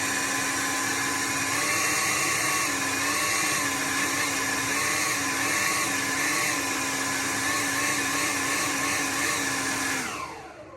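A Kobalt 40V battery backpack leaf blower runs on turbo with a loud, steady high-pitched electric whine and rushing air held for about ten seconds before spinning down at the end.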